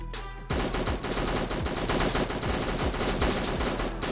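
AK rifle fire in the Fallen Survival video game comes as a dense, continuous crackle of rapid shots layered over heavy game noise, sustained and fairly loud throughout with no talk.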